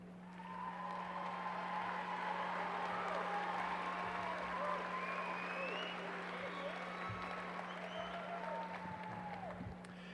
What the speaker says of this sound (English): Would our honor graduates please stand and receive our applause?